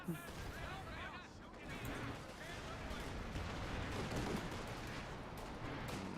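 Howitzer artillery fire in a strategy video game, a dense rumble of distant booms and gunfire under continuous talk.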